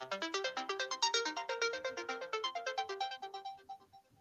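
A mobile phone ringtone goes off among the audience at a panel discussion, a quick tinkling melodic run of rapid notes that fades toward the end, clear with no talk over it.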